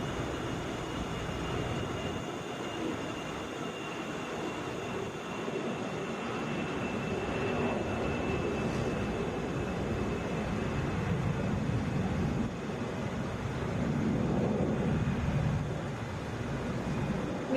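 A 19-year-old Delta Airbus A320 bound for Albany takes off at Atlanta airport, its engines giving a steady, broad jet roar at a moderate distance that holds for the whole stretch with no voices.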